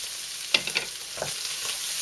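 Basmati rice frying in a pan: a continuous crackling sizzle with a few sharp scrapes and clinks of stirring near the middle, close and fairly loud, with no voices.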